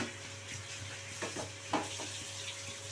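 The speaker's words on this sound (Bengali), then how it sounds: "গাজরটাকে ভেজে নিতে হবে" Grated carrots frying in ghee for a carrot payesh, a low continuous sizzle with a couple of brief stirring scrapes, fairly quiet and close, no voices.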